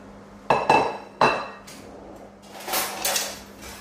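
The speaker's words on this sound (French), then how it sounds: "Alors, je vais mettre tout dans ma poêle." Vegetables tipped into a frying pan, with sharp metallic clanks and clinks of utensils against the pan followed by a soft sizzle rising underneath, close by and without talking.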